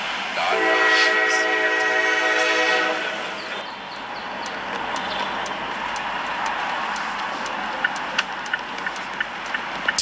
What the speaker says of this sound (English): Security camera captured a crash involving a garbage truck and a train in Mesa.